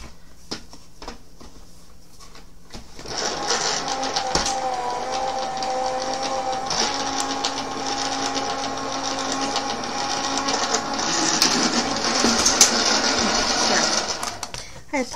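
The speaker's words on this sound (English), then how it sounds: "And this go through the die cut machine." A die cut machine running while crafting birthday balloon decorations, a steady mechanical whirring hum that starts after a few seconds of faint clicks and continues evenly with small rattles, moderately loud and close.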